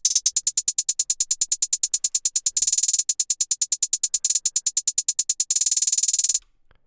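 Crisp hi-hats tick in a rapid 16th-step repeating pattern programmed in FL Studio, steady and loud with occasional faster rolls, ending abruptly, with no voices.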